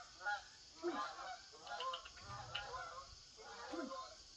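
A flock of geese honks outdoors, with several distinct calls repeating at irregular intervals, moderately near and clear over faint background noise.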